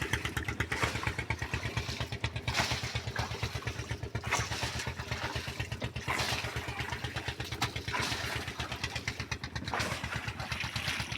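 A ship's engine approaching on the Hugli river, a steady, loud mechanical chugging with rapid regular pulses that runs throughout without a break.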